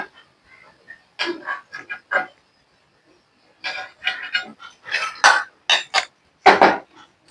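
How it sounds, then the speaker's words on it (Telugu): Freshly deep-fried golden onion pakoda are dropped into a bowl, giving a string of short, light clinks and clatters in irregular bursts, louder toward the end, with quiet gaps between. "ఇవి కూడా గిన్నెలో వేసేసుకుందామా?"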